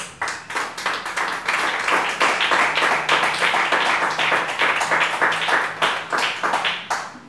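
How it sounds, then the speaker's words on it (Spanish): A church congregation claps together in a steady, dense run of hand claps, loud and sustained throughout, tapering slightly at the end. "Aplauda el nombre del Señor"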